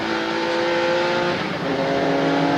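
A Jaguar XJ220C race car laps the tight Silverstone South circuit, its engine screaming loud and close, dipping briefly as it shifts or brakes, then climbing again, with no talking.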